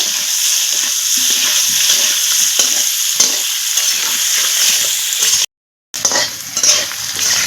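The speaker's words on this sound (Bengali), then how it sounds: "এই সেদ্ধ করা আলুগুলো আছে এই আলুগুলো একটু ভেজে নিব" Boiled potatoes fry in a pan for an egg curry, a loud, close sizzle with stirring scrapes, dropping out for a moment before resuming.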